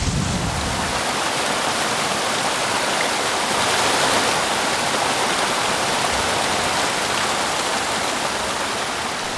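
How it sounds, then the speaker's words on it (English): Loud, continuous rushing water fills the whole clip, a dense steady roar of streams gushing across a forest floor after torrential rain in Kenting National Park, Taiwan. "Torrential rains hew new streams and rivers across the forest floor"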